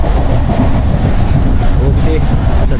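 A MEMU passenger train runs on the Panvel to Ratnagiri route, a loud, constant rumble of wheels and carriage noise heard from on board, with a faint squeal partway through.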